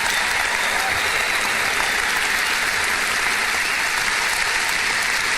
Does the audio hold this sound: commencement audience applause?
yes